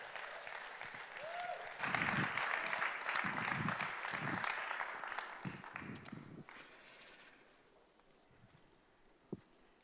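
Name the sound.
audience applause at a conference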